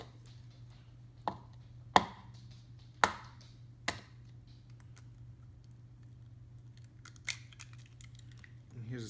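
Eggs cracked for an omelet at home, a series of sharp, crisp taps against a hard edge spaced a second or so apart, with a later single knock over a steady low hum in a quiet kitchen.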